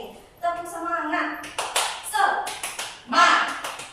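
A classroom performs a rhythmic clapping cheer, tepuk semangat, in bursts of claps mixed with children's chanting voices and a teacher speaking, close and fairly loud.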